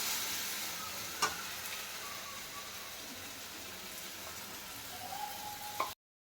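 Tomatoes fry in oil for ghee rice veg kurma, a soft, even sizzle and crackle with a couple of sharp clicks, ending abruptly.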